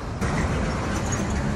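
Trucks drive along a road in Japan in the morning, heard as a steady, fairly loud broadband rumble and hiss of passing traffic without any speech.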